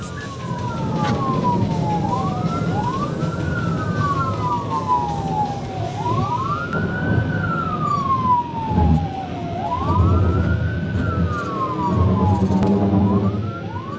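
Wailing police car sirens rise and fall in long repeating sweeps over a heavy rumble of traffic, loud and close, with several sirens overlapping.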